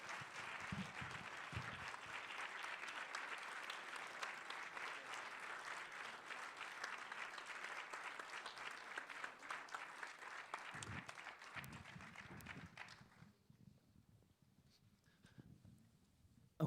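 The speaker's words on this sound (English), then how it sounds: "Please applaud them once again" Audience applause for the two lead actors at a post-screening film Q&A, a steady, dense clapping from a large crowd lasting about thirteen seconds before tapering off into quiet room tone.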